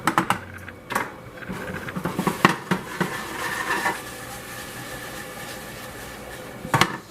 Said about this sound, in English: You want to stir your noodles.